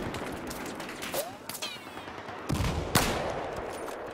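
Unica pistol gunshots in the Battlefield 4 video game, fired in a few sharp bursts with ricochet-like whines and a busy battle ambience, and no talk over them.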